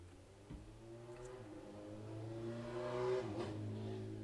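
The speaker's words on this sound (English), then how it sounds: "I know you heard that motorcycle." A motor vehicle passes close by outdoors, its engine rising to a louder, higher-revving peak around the middle, then easing off as it moves away.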